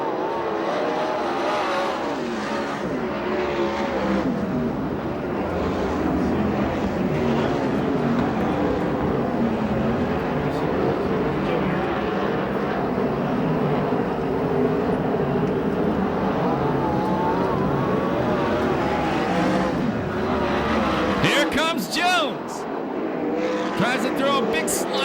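USAC/CRA sprint cars race on the Perris, California dirt oval at a season opener, engines roaring continuously and loud as the pack circles, with a commentator talking over the racing noise throughout.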